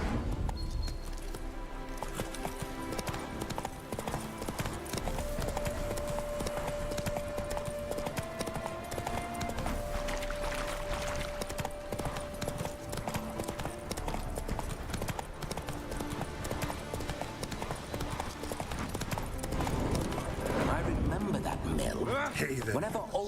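Roach, Geralt's horse in The Witcher video game, trots with steady clip-clopping hooves over a continuous background score while voices talk.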